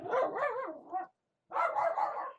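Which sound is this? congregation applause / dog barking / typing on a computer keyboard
dog barking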